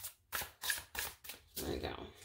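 A tarot deck, the El Goliath 2nd Edition, shuffled by hand in several quick bursts of card riffling and slapping separated by short pauses, close up and fairly quiet.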